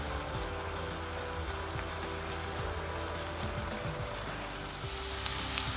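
Tengra fish with pea greens frying in a pan while being stirred, a steady close sizzle with faint scraping and stirring noises throughout, no voices.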